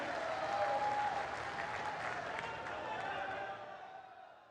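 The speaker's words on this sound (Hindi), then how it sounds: "जोरदार ताली बजाकर आदरणीय प्रधानमंत्री जी का स्वागत करें, अभिनंदन करें" A large crowd applauds loudly and steadily to welcome Prime Minister Modi at a tribal mass rally in Jhabua, Madhya Pradesh, the clapping fading slightly toward the end while faint voices carry underneath.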